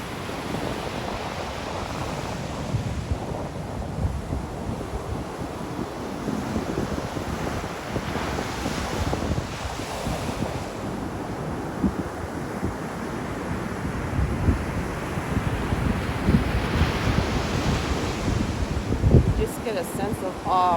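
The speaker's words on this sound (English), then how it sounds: "Just watch the waves for a few seconds." High ocean waves roll and break on a beach in a steady roar of surf, with gusts of wind buffeting the microphone throughout and a voice briefly heard.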